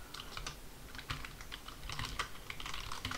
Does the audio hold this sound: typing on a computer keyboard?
yes